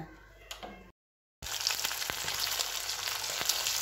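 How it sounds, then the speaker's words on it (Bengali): Spiced pabda fish fry in a pan with a close, dense sizzle that cuts out briefly near the start, then returns steady and crackling. "আর এখানে পাবদা মাছগুলো মশলা দিয়ে ভাজা করছি"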